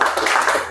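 A group of people claps during an oxy-acetylene bottle handling class, a dense burst of fast, close applause lasting under a second.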